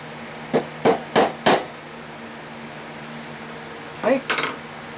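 Several sharp hammer taps on a guitar top during bracing work: a quick group of four near-equal strikes, a pause, then a closer cluster of three lighter taps, close and distinct over a low steady room hum.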